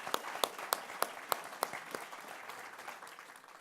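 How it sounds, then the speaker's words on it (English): Audience applause at a labor keynote address, opening with several loud distinct claps in a steady rhythm, then thinning into quieter, denser clapping from a moderately distant crowd. "You deserve a round of applause."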